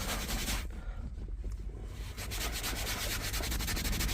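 Steady rubbing and wiping with wet wipes against a hard microcement floor surface, continuous scrubbing strokes close up with no talking.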